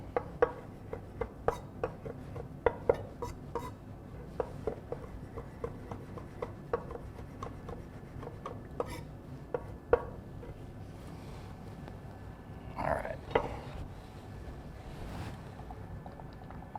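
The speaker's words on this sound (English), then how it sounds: "Give it a little chop." A knife chops reverse-seared tri-tip on a cutting board in a steady series of light, close taps, over a soft continuous background hiss that grows quieter near the end.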